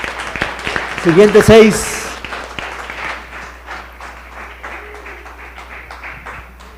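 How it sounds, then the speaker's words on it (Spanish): Brief burst of audience applause in a public-speaking workshop, loud for about a second, then fading into scattered claps under someone talking. "un aplauso"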